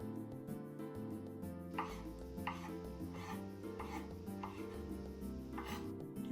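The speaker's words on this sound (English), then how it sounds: "let's just cut the avocado here" A kitchen knife cuts into an avocado with a series of soft, regular slicing strokes, about one each half-second, heard faintly over continuous background music.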